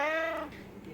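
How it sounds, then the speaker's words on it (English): A kitten gives a single short meow, close and fairly loud, with a bright harmonic tone that fades after about half a second. "Kitten."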